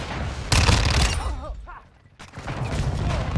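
Loud rapid gunfire from a Modern Warfare II firefight, dense bursts of shots that break off briefly and resume, with a faint voice underneath.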